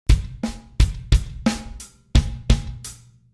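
A drum kit plays a short paradiddle groove of about nine strokes with a backbeat on beat 2, punchy low kicks mixed with snappier hits in an uneven rhythm, up close.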